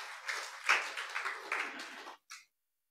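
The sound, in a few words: congregation applause for God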